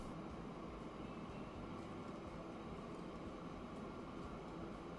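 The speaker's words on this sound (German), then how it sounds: "Der Zug ist jetzt da." A train pulling into a station in the rail-building game Transport Fever 2, a steady broadband rumble and rolling hum that stays loud and even throughout, with no talk over it.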